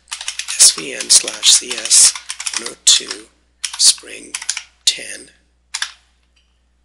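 Rapid clicking keystrokes on a computer keyboard come in close, uneven bursts with short pauses, while someone talks over most of the typing.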